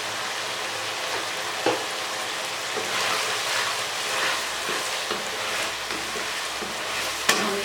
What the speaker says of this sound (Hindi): हम इसको अच्छे तरीके से भून लेंगे।